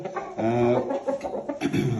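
Close, brief clucking from a chick, a few quick calls in a row with little else around.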